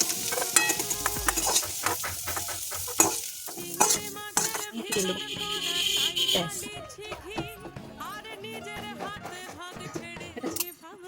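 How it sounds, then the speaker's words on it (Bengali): Oil sizzles steadily as bay leaves are tempered in it, while a utensil scrapes and clinks against the pan, stirring repeatedly, close up and fairly loud. "এবার তেলটা গরম হয়ে গেলে তেজপাতা ফোড়ন দেবো তেজপাতাটা দিয়ে ভালো করে নাড়াচাড়া করে নেবো"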